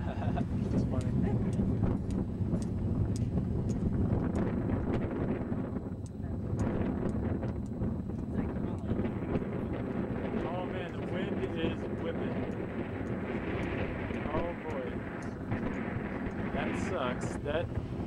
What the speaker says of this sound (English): the wind is really coming on these guys